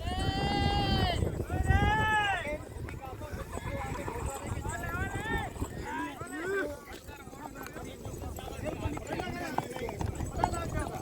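Horses gathered for a two-tooth horse race in Kutch clip-clop on the ground amid a noisy crowd, with bursts of whinnying and bleat-like animal calls rising over steady hoofbeats and chatter.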